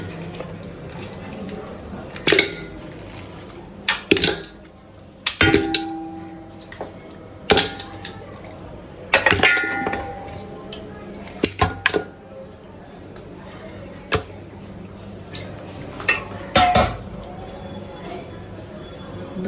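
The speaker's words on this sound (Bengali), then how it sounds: "ধুয়ে রেডি করছি হাড্ডিগুলা, এখন পাতিলে দিব।" Washed bones for nihari being handled and set into a metal cooking pot, giving a scattered series of sharp knocks and clinks with pauses between, fairly close, over a steady low background hum.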